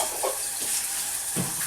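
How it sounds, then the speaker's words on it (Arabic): Onion fries in a pan with a steady broadband sizzle, stirred with a few soft scraping strokes, close and without speech. "نقلب البصله"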